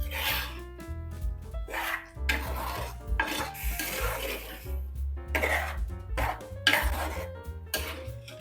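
A spoon scrapes and clatters rhythmically against a pot of tomato-mango curry, repeated stirring strokes close by with no talk.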